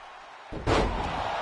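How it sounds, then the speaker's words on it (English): A wrestler is slammed down onto the mat in the WWE 2K22 wrestling game: after a brief quiet, one heavy, booming impact hits hard and is followed by a sustained loud crowd-like roar. "picks him up, and slams him back down to the ground"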